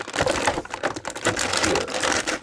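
Clippers or scissors snip plastic ties off an action figure, a quick run of close, sharp clicking cuts with no voices.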